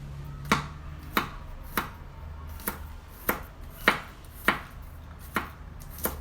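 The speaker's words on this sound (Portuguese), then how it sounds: "Picar o alho." A knife chops garlic on a cutting board, nine or ten steady, evenly spaced taps close by, with a low background hum and no talking.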